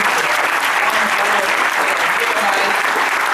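An audience at a college event gives trustees a big round of applause, with loud, even, continuous clapping throughout and some crowd voices mixed in underneath.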